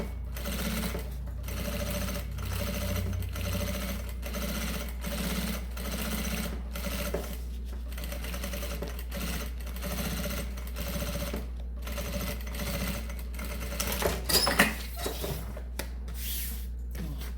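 An industrial sewing machine without dual feed runs steadily, stitching synthetic material in long continuous bursts with brief pauses between runs, a close and even mechanical hum throughout.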